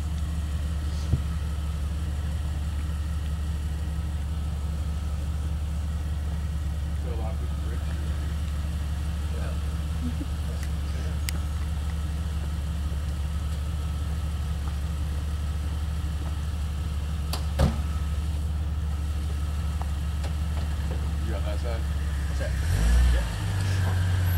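A 4x4 engine idles and churns at a low, steady rumble as the vehicle crawls along a swamp trail. The drone holds constant for the whole stretch with brief knocks, a slight swell near the end, and occasional faint voices.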